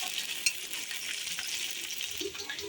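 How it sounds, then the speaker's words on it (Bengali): Boiled, hand-broken potatoes go into a pan of frying onions and chillies for aloo dum, giving a soft, steady sizzle with a few faint clinks, quiet and without talk. "এখন আলুগুলো দিয়ে দিই।"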